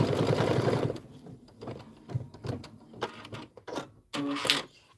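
An embroidery sewing machine stitches a quilt block in a cluttered sewing room. Its rapid, close, mechanical chatter comes in short bursts separated by brief pauses, with no talking.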